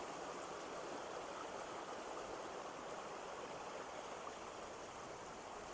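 The River Dan at Tel Dan flowing abundantly, a steady broadband rush of moving water that stays constant throughout.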